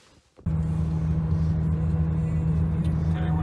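A BMW E60 530i stuck in second gear at about 3,500 RPM, its engine starting up loud and holding a steady, heavy drone with a strong low hum from the cabin.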